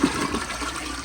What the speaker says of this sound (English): here is another flush